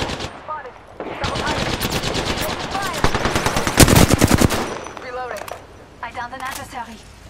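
Rapid bursts of automatic gunfire in Apex Legends, loud and close with dense rhythmic rounds and a brief lull, while a voice talks over the shooting.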